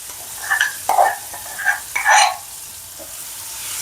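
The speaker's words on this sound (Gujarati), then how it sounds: "હવે આપણે આ લસણ મરચાંની પેસ્ટ આપણે" Garlic and green chili paste frying in hot oil with asafoetida for a spiced potato dish, a few sharp sizzling bursts as it is added and stirred, close up with no voices.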